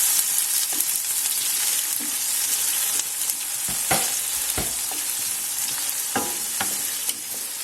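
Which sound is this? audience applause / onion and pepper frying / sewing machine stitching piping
onion and pepper frying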